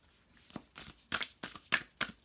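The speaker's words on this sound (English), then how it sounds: "Let me give it one more good shuffle" A deck of tarot cards is shuffled close up in six quick, crisp bursts at a brisk, even rhythm, with short pauses between them.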